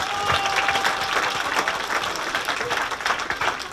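Loud, dense applause from an audience at the close of a stage hypnosis show, continuous clapping with faint crowd voices mixed in.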